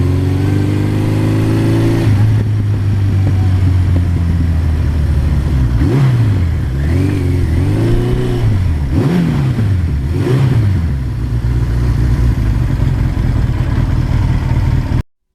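A 1982 Suzuki GS1100E motorcycle engine idles steadily at close range, then gets revved in a string of rising and falling throttle blips, loud and alone with no talking.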